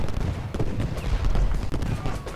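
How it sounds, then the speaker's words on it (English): Battle sounds from the Ultimate General: Gettysburg video game, with artillery firing shell shot amid dense, rolling gunfire: a continuous crackle of overlapping booms and volleys at steady loudness, no talking. "Let's make sure that these guys are still firing shell shot."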